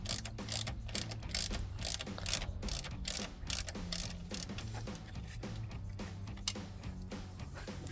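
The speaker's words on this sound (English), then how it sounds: "swap sockets to the 8mm and start working on that other bolt" Rapid ratcheting clicks from a socket wrench turning an 8 mm bolt on a Jeep Wrangler JK radiator, in repeated close bursts with short pauses, fairly quiet and without talk.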